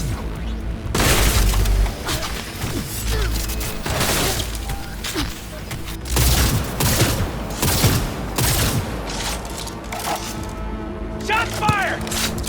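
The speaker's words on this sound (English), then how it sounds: "Shots fired!" Heavy gunfire from a Cyberpunk video game: dense bursts of automatic shots and booming blasts rattle almost continuously, loud and close, with brief lulls and a voice shouting over the din.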